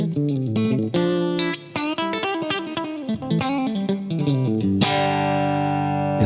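Electric guitar through a Fractal-modeled Mesa Mark IIc+ clean tone with studio reverb, chords and single notes played alone, ending on a long ringing chord.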